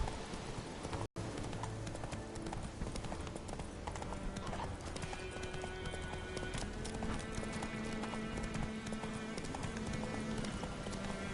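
Roach the horse gallops in The Witcher 3, hooves clip-clopping in a steady, continuous run that stays loud and close throughout, with a quick neigh and low game ambience beneath.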